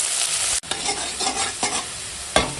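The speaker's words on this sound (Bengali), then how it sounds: "তেল গরম হয়ে গেছে, ওই তেলে দিয়ে দিলাম পেঁয়াজ। পেঁয়াজটা ভেজে নেবো।" Sliced onions hit hot oil with a strong, bright sizzle, broken by a few sharp stirring scrapes against the pan.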